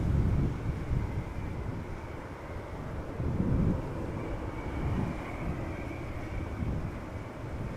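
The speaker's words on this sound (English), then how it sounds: "there is an Embraer 190 arriving from Venice, and it is over here." An Embraer 190 airliner arriving from Venice approaches Schiphol Airport in Amsterdam, a faint distant engine rumble that swells and fades softly, mixed with wind buffeting on the microphone.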